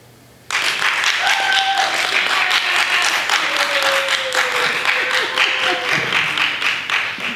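After a brief quiet, an audience at a talk breaks into sudden loud applause, a dense steady clapping that holds for several seconds with a few voices calling out over it.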